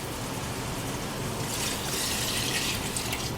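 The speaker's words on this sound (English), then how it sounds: "Now I'm going to add some water." Water poured into a pot of beef for a stewed pepper steak, a steady continuous gushing splash that brightens and grows slightly fuller partway through, close and alone.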